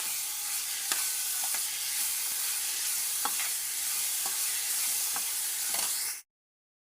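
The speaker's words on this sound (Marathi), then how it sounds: "आतां तितून घालया टमाट आनी हेंवूय बरें तडसून काडया" Onion and tomato frying in a pan for Goan-style poha, a steady bright sizzle with scattered stirring clicks, close and continuous until it cuts off abruptly near the end.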